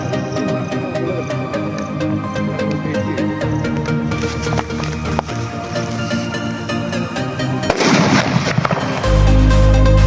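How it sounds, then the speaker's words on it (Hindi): Bahubali Diwali firecrackers go off in sharp, loud bursts, with a heavy crackling flurry near the end and a deep rumbling blast in the final seconds; no voices are heard. "तो चलिए इस बाहुबली को भी ट्राई करके देखते हैं कि इसका आवाज कैसा होता है।"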